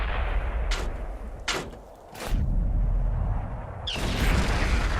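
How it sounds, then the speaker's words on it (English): Tank cannon shots from an FV304 in World of Tanks on Xbox 360, several booming reports over a constant rumbling engine drone, one sharp shot near the end. "I fire on him, hitting him, causing a little bit of track damage."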